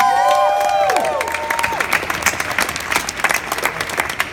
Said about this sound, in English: give yourselves a round of applause for actually sitting and listening to us talk that way